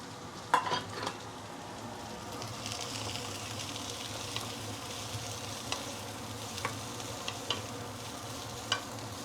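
Vegetables stir-fry in a hot pan with fragrant shallots for fried beehoon, a continuous close sizzle broken by occasional scraping and clinking stirs.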